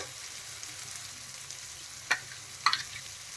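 Chopped onion with garlic paste frying in a pan for jackfruit prawn curry, a faint steady sizzle with two brief sharp spoon clinks near the end.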